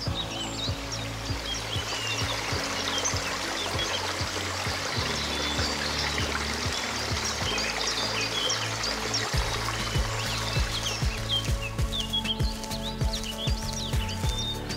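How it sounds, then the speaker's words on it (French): A stream flows and gurgles steadily throughout, with birds chirping faintly in the background. "écoutons le bruit du ruisseau en train de couler"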